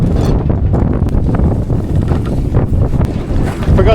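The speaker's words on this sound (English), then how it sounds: "Last night it was windy, and it's still windy." Strong wind of 25 to 35 knots roars continuously across the microphone on a boat, loud and buffeting, with gusty rumble throughout and no talking.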